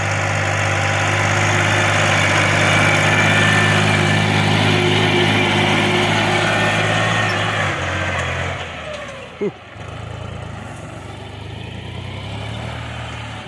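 Shifeng SF 244 C tractor engine running under load while hilling potatoes with a Bomet hiller, a loud steady mid-pitched drone that eases and drops in level partway through, with a brief knock near the end.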